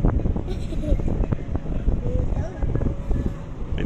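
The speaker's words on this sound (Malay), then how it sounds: "Cuaca berangin" Gusty wind buffets the microphone at the Kuala Lumpur Tower, a steady broadband rumble with irregular low thumps, sounding close and loud throughout.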